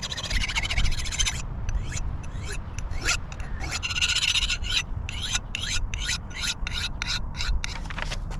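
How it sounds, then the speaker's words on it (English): Steady back-and-forth filing strokes rasp along a cheap, rusty axe head's edge as it is sharpened, close and continuous, with a rhythmic scraping pulse and no talk. "Alright, the sharpening's done."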